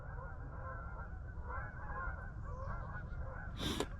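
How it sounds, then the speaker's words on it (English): Geese flying overhead honk in a quiet outdoor setting, a loud burst of calls near the end standing out above steady low background rumble and wind. "Bunch of geese flying overhead,"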